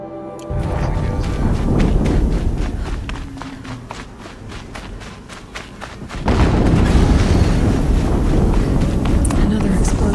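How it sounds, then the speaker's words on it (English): Booming explosions in the video game Horizon Zero Dawn, heavy thuds and rumbling blasts that swell loudly, dip briefly, then surge again, with dense layered game noise throughout. "Another explosion."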